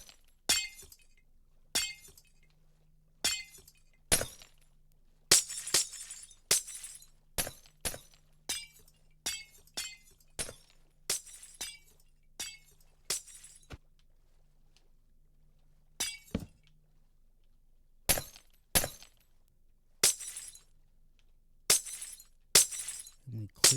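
Glass blocks shatter one after another in the Minecraft: Bedrock Edition video game, sharp crisp breaks in an irregular series with short quiet gaps between them.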